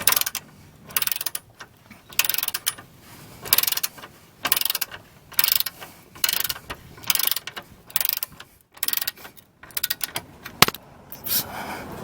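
A ratchet wrench tightens a bolt to 55 foot-pounds on a Mitsubishi Galant VR4 under repair. Close, crisp bursts of ratcheting clicks repeat in a steady stroke-by-stroke rhythm, with short pauses between pulls.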